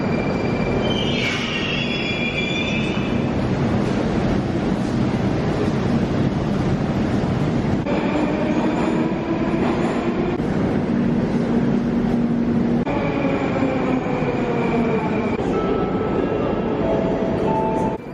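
A Moscow metro train in a station rumbles loudly and continuously, with wheels squealing in long high tones and screeches as it moves along the platform, close and without speech.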